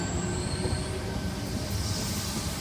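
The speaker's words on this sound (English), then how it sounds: "T75 departing platform 1." Sydney Trains electric train departing Camellia station platform, a steady close rolling rumble with a faint high squeal and hum running throughout, with no voices heard.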